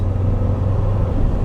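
A C7 Corvette on the road gives a loud, steady low engine rumble with constant drone, no voices present.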